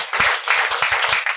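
A lecture-hall audience at a Buddhist sutra talk breaks into applause, a brief burst of dense clapping with a few distinct low thumps, close and lively.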